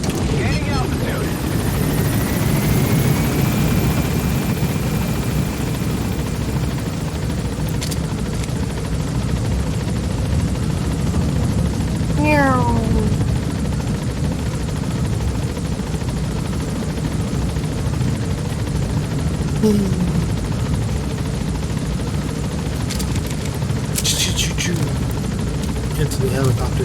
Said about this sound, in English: Into the helicopter, Snake.